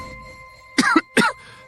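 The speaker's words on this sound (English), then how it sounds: "Cough, cough." Two or three harsh, close coughs come in quick bursts after a quiet start, loud and standing alone.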